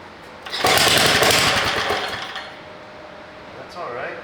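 A small engine of unknown make, freshly repaired after a bottom needle gasket sealing problem, cranks and catches into a loud, rough buzzing run, then fades to a steadier hum with a brief rise near the end.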